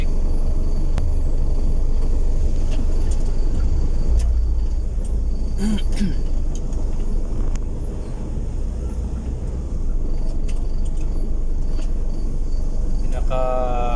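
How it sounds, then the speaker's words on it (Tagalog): Road traffic passes along a busy road with concrete barriers, a continuous low rumble of engines and tires with a brief higher whine midway, under background ambience. "nag-uumpisa na yung traffic"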